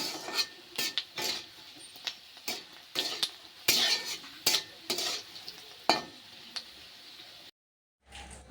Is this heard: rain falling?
no